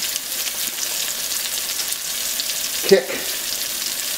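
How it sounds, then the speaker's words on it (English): Vegetables for beef fajitas sizzle steadily in a hot pan as they are stir fried, a broad continuous hiss with one brief louder clatter near the end and a few faint words spoken. "So we'll stir fry off these veggies"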